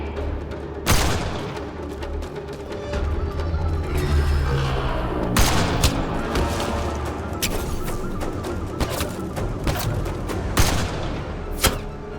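Gunfire in the video game Mass Effect Andromeda during a firefight against a sniper: sharp loud shots and bursts crack out at irregular intervals over a rumbling, busy battle bed, with no voices.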